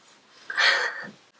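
Small dog in a Christmas sweater giving a single snorting, heavy breath up close, a brief gasp-like burst swelling and fading, alone without talk.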